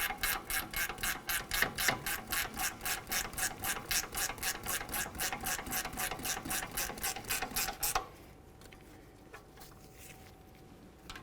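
A ratchet clicks rapidly and steadily for about eight seconds, snugging up the brake caliper bracket mounting bolts on a 2001-2006 Chevrolet Silverado 2500 HD, then stops, leaving quiet shop ambience.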